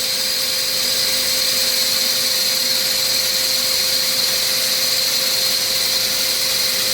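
A loud, steady mechanical whine of a core drill cutting rock runs continuously and close, with a constant high hum and no pauses.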